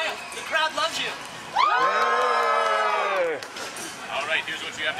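A crowd cheers and whoops for a volunteer at a live show, a loud sustained swell of voices that rises suddenly, holds for a couple of seconds, then falls back into general crowd noise and talk.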